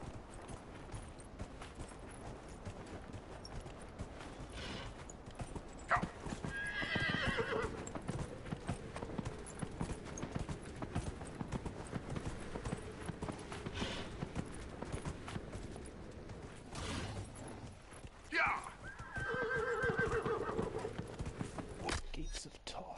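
A horse whinnies twice, around six and nineteen seconds, over steady clip-clopping hooves and a busy background in the video game Dragon Age: Inquisition.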